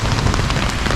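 Heavy rain pounds down during a thunderstorm by a lake in Colombia, a dense, loud and steady hiss of close rainfall with no pauses and no voices.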